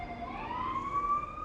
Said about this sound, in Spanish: Me avisan si suena muy fuerte la ambulancia que acaba de pasar.